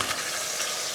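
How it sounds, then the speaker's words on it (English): Smoked ponce (chaudin), a Cajun stuffed pork stomach, sizzling in a hot pan with a bright, dense crackling hiss that stays steady and close throughout. "There she is, sizzling up again"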